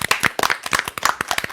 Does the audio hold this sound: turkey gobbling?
no